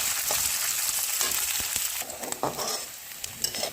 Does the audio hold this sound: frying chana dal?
yes